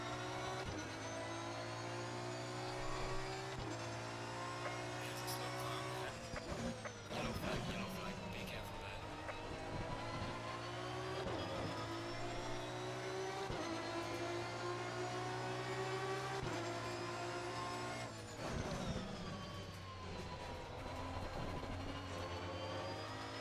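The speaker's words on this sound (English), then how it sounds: "Can hear how the traction control engages" Aston Martin V12 race car lapping Bathurst in a racing sim, its engine droning steadily with gear shifts and stuttering dips as traction control cuts in, while a voice talks over it throughout.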